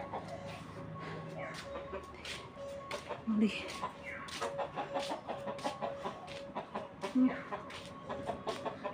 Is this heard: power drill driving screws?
no